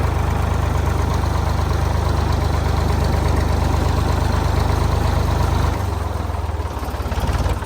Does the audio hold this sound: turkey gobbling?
no